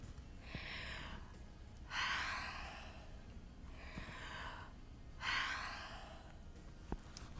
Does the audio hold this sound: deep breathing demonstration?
yes